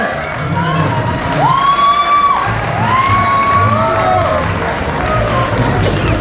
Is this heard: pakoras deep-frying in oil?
no